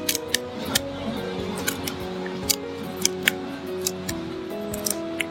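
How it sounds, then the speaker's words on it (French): Crispbread crackers are cut into tiny pieces, producing a series of sharp, crisp snips and crunches at an irregular pace, close and fairly clear over a faint background hum. "on va prendre les cracottes et on va les couper en tout petits morceaux"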